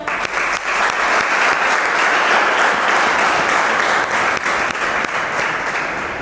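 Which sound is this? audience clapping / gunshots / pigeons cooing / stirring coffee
audience clapping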